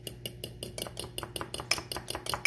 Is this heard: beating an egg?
yes